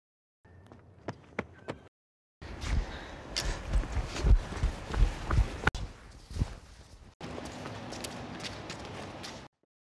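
Several sets of footsteps from a sound effects library, played one after another: a few sparse, separate steps, then a dense run of loud, close steps, then a steadier stretch of walking with no talk over them.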